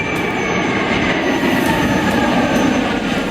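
An Indian Tejas fighter jet's engine gives a loud, steady roar that holds without a break from start to finish.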